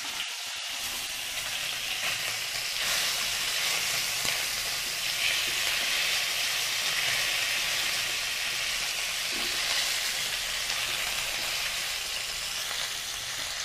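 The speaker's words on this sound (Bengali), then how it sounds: "মাছটা বেশি ভাজবো না, একটু হালকা করে ভাজবো" Bhetki fish fillets fry lightly in hot oil, producing an even, continuous hissing sizzle that holds steady and close for the whole stretch.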